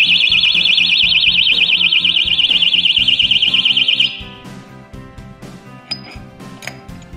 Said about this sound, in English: This alarm is piercing.